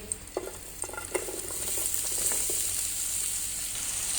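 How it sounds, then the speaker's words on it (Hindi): Large chopped onions sizzle in ghee in a pan for butter chicken, with a few early clinks and stirring taps before the frying hiss settles into a steady, moderately loud sizzle that runs throughout. "और इसमें हम बड़े साइज के कटे हुए प्याज डालेंगे।"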